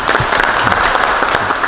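Applause from an early-morning gathering of tennis coaches in Daegu, a short burst of dense, close clapping from a small group.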